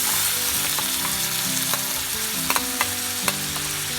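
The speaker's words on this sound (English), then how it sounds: "add 2 tablespoons of coconut oil into it. Now, add the chopped bitter gourd." Chopped bitter gourd frying in coconut oil, a steady close sizzle punctuated by a few sharp utensil taps and scraping stirs.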